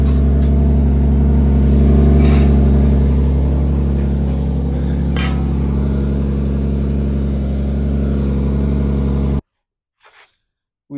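A Lexus IS with a swapped LM7 V8 idles loud and close with a deep throbbing rumble, swelling in a few revs before sound abruptly cuts to silence near the end.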